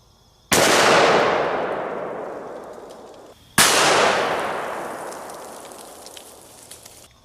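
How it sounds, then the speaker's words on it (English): Two loud, close gunshots from a .500 Smith & Wesson Magnum revolver loaded with 500-grain jacketed lead flat-nose rounds, fired at a large stone outdoors, each a sharp blast with a long ringing decay, about three seconds apart. "let's hit it with the 500 Smith & Wesson Magnum"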